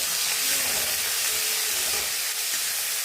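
Chopped onion fries in oil with chilli and garlic in a wok, a steady close hiss and sizzle that runs on evenly without talk.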